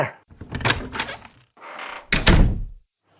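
A door opens in a spooky Thai storytelling drama: a wooden thump and creak build up, then a louder latch-and-swing burst near the end, with a faint steady insect-like hum behind it.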